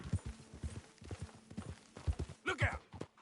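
Horse hoofbeats from the video game Red Dead Redemption 2 clop along at a steady rhythm, fairly quiet and mixed under game ambience and brief talk.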